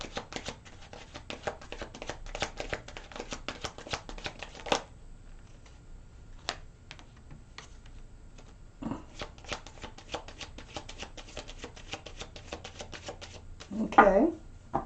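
Tarot cards shuffled and drawn at a close table, a long run of quick crisp riffles and flicks with brief pauses and a few louder slaps near the end; a voice talks faintly underneath.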